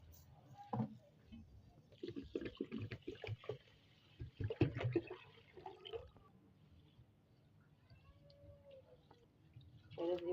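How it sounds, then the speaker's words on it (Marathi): Close sloshing and swishing of water with grains being stirred and rubbed by hand, in uneven bursts, then quieter trickling. "आता आपण तांदूळ धुवून घेणार आहे"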